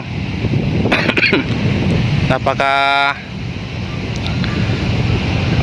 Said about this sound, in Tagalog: yung hangin